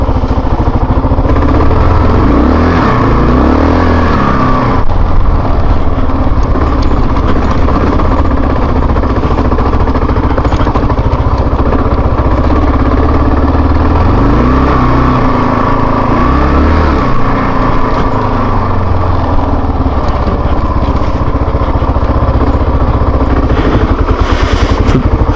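Off-road motorcycle engine on the Unicoi trail, a loud continuous mid-pitched drone close by, with rising and falling revs as the bike works over off-camber terrain for the whole stretch.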